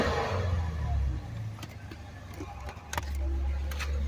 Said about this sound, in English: Now that's why us muscle car likers like our V8 engines, baby.